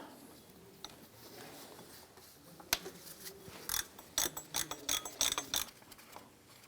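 A ratchet and socket loosen the lower power steering pump bolt on a 2004–2008 Acura TL. There is a single click, then a quick run of close ratcheting clicks in short bursts over quiet garage ambience.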